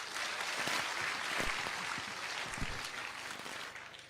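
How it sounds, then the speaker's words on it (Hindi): Audience applause at a youth mahapanchayat political gathering on the 2023-24 budget, a steady crowd clapping that stays loud and dense throughout, with a few sharper claps standing out and a slight tapering near the end. "आपकी तालियों के साथ"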